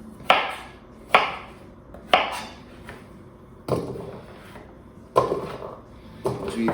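Knife chopping food into even chunks on a cutting board while cooking duck: six sharp, distinct chops spaced about a second apart, close and clear with a short ring after each stroke, no voices.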